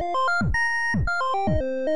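A Pico-8 chiptune pattern from a shoot-'em-up game: bright square-wave melody notes hopping in pitch over a repeating booming synthesized kick drum that falls sharply in pitch, steady and loud.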